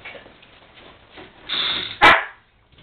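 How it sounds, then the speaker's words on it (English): A small dog gives a single sharp bark after a brief whine, close and fairly loud, against a quiet background. "And of course you see Stormy, the lap dog"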